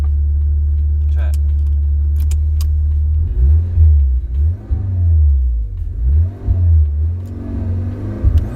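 A Fiat Uno Turbo i.e. engine idles with a deep, loud rumble, the pitch swelling and dipping as the throttle is blipped a few times.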